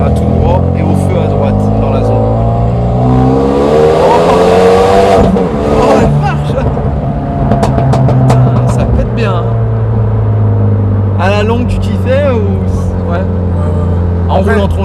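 Renault Megane 3 RS Performance pulling away hard on the road, its engine climbing loudly through the revs with a steady drone, heard from inside the car while people talk over it.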